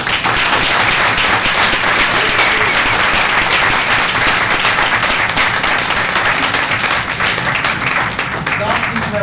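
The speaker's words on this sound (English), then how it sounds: "Deserves a round of applause" Sustained, dense applause from a council meeting audience fills the room, steady and loud throughout with no pause, a crowd clapping together for a local swim team's winning streak.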